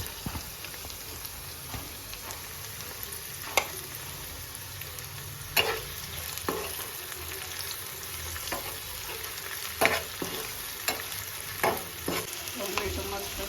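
Tomatoes and curry leaves sizzling in a pan for chicken sukka, a steady crackling fry with sharp clinks of a spoon stirring every few seconds, close and continuous with no talk.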